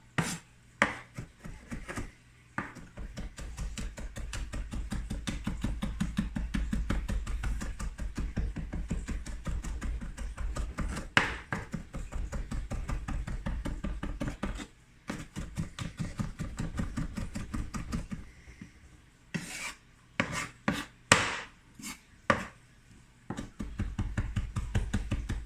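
Two garlic cloves are chopped with a knife on a cutting board, fast steady thuds and taps at close range that run in bursts, pause briefly, then resume with sharper knocks near the end.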